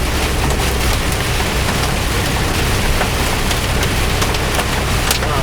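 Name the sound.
hail and heavy rain falling on a truck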